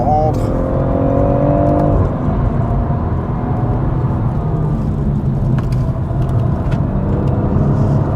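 A BMW M140i engine pulls hard at full throttle on the Nürburgring, a loud steady in-cabin drone with a rising tone shift early on, while people talk over it.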